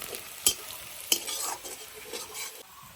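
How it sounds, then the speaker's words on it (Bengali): Onions fry in a pan with a soft sizzle while a utensil stirs and scrapes the metal, two sharp clinks standing out early, the scraping fading toward the end. "পেঁয়াজটাকে আমরা ফার্স্টে লাল লাল করে ভেজে নেব"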